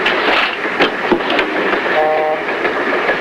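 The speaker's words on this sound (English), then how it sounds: "This train's traveling a long way." A passenger train travels steadily along the rails, a continuous broadband rumble with faint rhythmic clicks and brief squeals, heard from inside and without speech.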